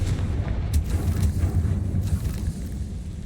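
A Confringo fire-blast spell from Hogwarts Legacy goes off as a deep, sustained rumbling boom, heavy low-end roar rolling steadily for a few seconds, close and loud with no voices.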